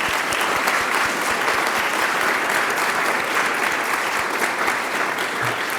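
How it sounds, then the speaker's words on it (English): A conference audience at a financial security event gives a sustained round of applause for Michelle, with dense, even clapping that stays loud and close throughout. "A round of applause to Michelle."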